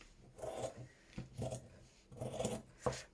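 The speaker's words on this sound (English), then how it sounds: "Where's my beast scissors? And I'm just going to trim along" Scissors trim fabric for a slow-stitch junk journal pocket in a series of close, rasping snips, about four cutting strokes in an uneven rhythm with short pauses, quiet and alone without talking.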